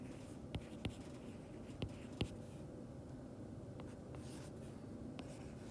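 Pen strokes of lecture notes being written during a friction lecture, a few short taps and scratches spaced irregularly over a quiet room hum, faint and close.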